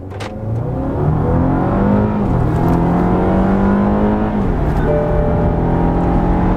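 A car engine in sport mode revs and then pulls hard from a standing launch, its pitch climbing steadily through the gears as it accelerates loud and close, with no talking.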